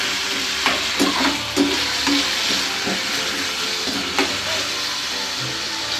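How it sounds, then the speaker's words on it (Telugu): Chopped tomatoes fry in hot oil for mint chutney, a loud continuous sizzle close up with irregular clinks and scrapes of a spoon stirring the pan throughout. "కట్ చేసుకున్న టమాటోస్ని యాడ్ చేద్దాం"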